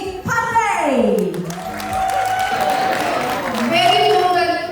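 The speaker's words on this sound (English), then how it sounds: "Give a big round of applause, everyone!" Festival crowd at Rejoice Fest Bali, 2025, applauding a performer, the clapping a dense steady wash running throughout beneath a loud voice and tonal music sweeping through the middle.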